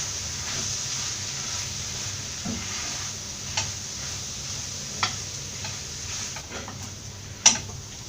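Spices, coriander powder and garam masala for a Kerala mutton curry stirred in a pan, a low continuous sizzle with a few sharp spoon clicks against the pan, the loudest near the end, no voices.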